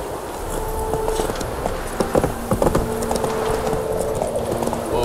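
Horse hooves trot in The Witcher 3: Wild Hunt, a steady, close clip-clop rhythm that keeps up throughout with a few sharper, louder strikes near the middle.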